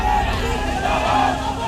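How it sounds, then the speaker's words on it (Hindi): A large crowd of people in a street procession chanting religious slogans, a dense continuous roar of many voices that swells and holds throughout. "धार्मिक नारेबाजी की गई।"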